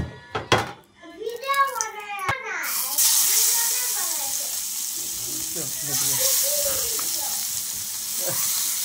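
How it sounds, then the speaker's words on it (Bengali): Vangon fish sizzling as it fries in a wok with a little garlic. A loud, steady hiss starts after a few seconds of talk and carries on without a break while a person keeps speaking over it. "মাছটা ভাজা নিব।"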